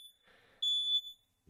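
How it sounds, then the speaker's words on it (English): A drone's circuit board on a workbench gives a single clear, high electronic beep as it powers on, sharp and alone in a quiet room, preceded by a fainter tone. "Okay, it will be beeping."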